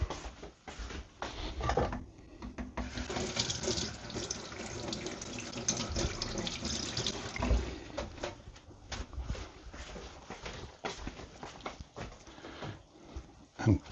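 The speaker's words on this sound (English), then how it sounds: "I wash the spoon." Water runs from a tap in a kitchen sink while a spoon is rinsed under it, giving a continuous splashing hiss with clinks and scrapes, moderately near and fairly quiet, without any talk.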